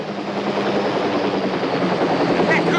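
A pink helicopter flies close by, its rotor chopping and engine whine loud and steady the whole time.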